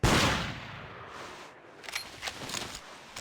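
A rifle shot in Cabela's Big Game Hunter 2005 opens with a loud, sharp crack that decays into quiet desert ambience, followed by faint clicks and light handling sounds.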